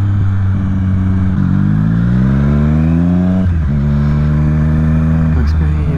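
An electric motorcycle's motor whines and rises in pitch during a rev-matched shift, with a steady loud drone and a short dip before climbing again.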